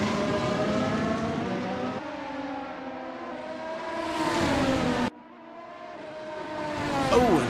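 Race cars in a racing video game, engines whining and shifting pitch as several cars battle closely, with a cut to another engine note and a rising rev near the end, loud and continuous.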